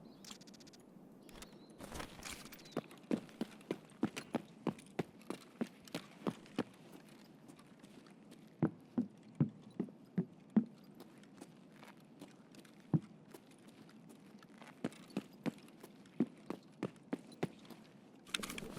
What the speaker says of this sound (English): I'm hearing footsteps, but I'm pretty sure it's just the sniper on the roof.